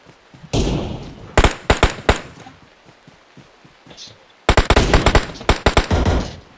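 Sharp bursts of automatic gunfire in a battle royale video game, two clusters of rapid shots separated by a quieter stretch, loud and close.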